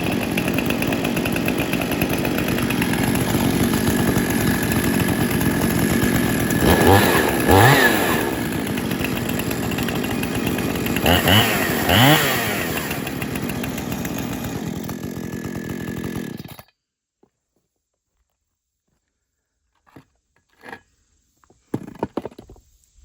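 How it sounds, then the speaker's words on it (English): Two chainsaws, one with 3/8 pitch chain and one with .325 pitch, run loudly and steadily close by with a couple of revving surges, then cut off into near silence broken by a few small knocks. "But I'll definitely start them up real quick."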